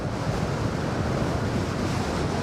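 Strong wind roars steadily across an open stretch of Fort Myers Beach, blustering into the microphone alongside a constant wash of surf, loud and unbroken with no pauses.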